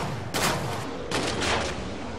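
Gunfire in the video game Killing Floor 2, dense crackling bursts that swell and fade over a constant loud roar of game noise, with no talking.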